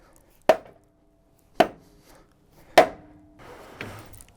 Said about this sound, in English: I'm going to see if I can persuade the bumper a few fractions of an inch here with a dead blow mallet